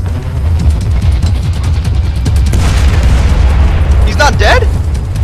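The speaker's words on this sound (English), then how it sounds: "Just a grenade, I guess." A grenade blast in the stealth shooter Splinter Cell Blacklist, a loud sustained boom and rumble spread over several seconds amid dense game noise, with a voice briefly audible near the end.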